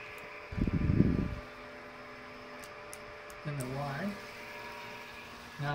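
Stepper motors on a Rat Rig 3D printer whir during homing, a short rising-pitched motor sweep heard close and moderate over a steady mains-like hum, following a brief burst of noise earlier.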